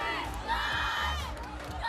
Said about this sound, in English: Crowd enjoying that.